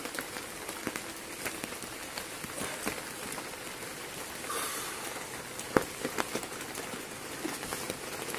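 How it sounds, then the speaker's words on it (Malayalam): Steady rain patters on a tent close by on a hilltop campsite, a dense continuous hiss with scattered louder drops and one sharp tap. "നമ്മൾ പ്രതീക്ഷിക്കാത്ത രീതിയിലാണ് മഴ വന്നത്"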